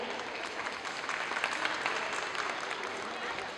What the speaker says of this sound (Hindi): तालियों में कुछ कंजूसी हो रही है